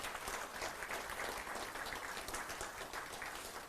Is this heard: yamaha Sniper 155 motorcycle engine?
no